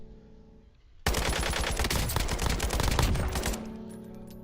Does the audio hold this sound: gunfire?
yes